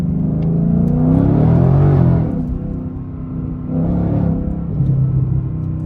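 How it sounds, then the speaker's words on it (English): Ford Mustang with an X-pipe exhaust rumbling and revving, a low burbling drone that swells twice, close and steady with no talk. "There's a lot of like crackling and burbling that goes on with the exhaust now after that X-Pipe got installed."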